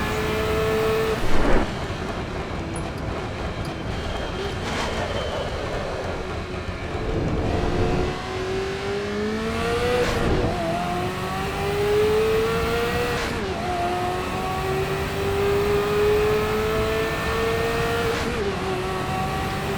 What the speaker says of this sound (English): This will be my last lap of driving this car poorly.